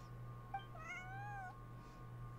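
A cat named Bonnie in a video game gives a single drawn-out, rising-and-falling meow over a steady electronic hum, fairly faint and with no one talking.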